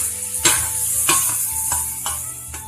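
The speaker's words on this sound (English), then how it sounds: "And we'll cook these down until they become semi-translucent or translucent" Garlic and vegetables sauté in a soup pot for broccoli cheese bacon soup, a steady sizzle running throughout with several distinct scraping stirs of a utensil against the pot, close and fairly loud.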